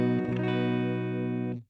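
Electric guitar, a Donner DMT 100, played through an ML Sound Labs Gemini amp model on its clean channel: a single strummed chord ringing out for about a second and a half before being cut off, clear and alone.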